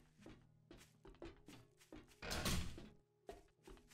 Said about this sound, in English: These doors being made out of iron, though, doesn't really help.